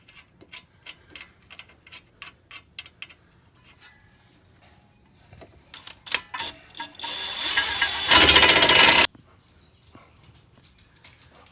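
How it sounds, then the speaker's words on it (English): Bolts on a Ford Escape lower ball joint are run in with a ratchet, a quick series of sharp clicks in bursts, followed by a loud one-second burst of an impact tool. "go ahead and get that ball joint there tightened up"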